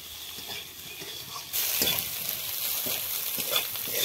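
A semolina and potato snack with carrot and chopped boiled egg fries in a pan with a soft, steady sizzle that grows louder and brighter partway through, with occasional light scraping and no talk.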